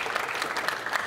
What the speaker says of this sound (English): Oh yeah, you can clap, Emily.